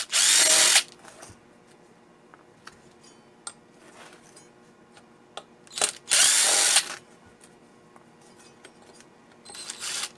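Power drill backing screws out of the heat sink on an inverter air conditioner circuit board, two loud whirring bursts separated by quiet clicks and small handling taps.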